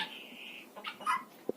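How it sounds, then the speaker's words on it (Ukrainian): A cat on a rural Ukrainian farm near a grain shed gives a drawn-out meow, then a few shorter mewing calls, fairly faint against a quiet outdoor background. "Он і котик ще один з'явився."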